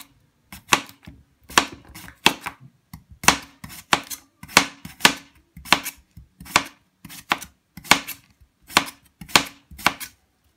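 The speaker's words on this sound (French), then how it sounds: "Je découpe des petites rondelles." A knife slicing cucumber into thin rounds strikes the board in a steady series of crisp, close chops, roughly two per second, with no voices.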